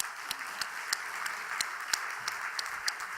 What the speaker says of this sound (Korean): 다시 한번 박수 한번 하십시다.